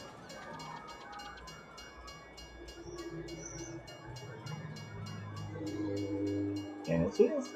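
Train in the Farming Simulator 22 video game rolling past at a distance, with a rhythmic clicking of wheels over rail joints and a low rumble building toward the end, with some faint in-game sounds.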